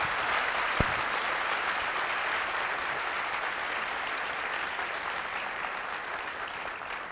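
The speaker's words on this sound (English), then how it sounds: "Can we give a big round of applause to him for that?" A live audience gives a sustained round of applause at a talk with Sanjeev Sanyal, dense and steady from start to finish with no voices.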